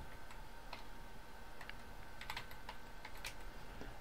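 A password being typed on a computer keyboard, with quiet, irregular key clicks close by over a steady low background hum.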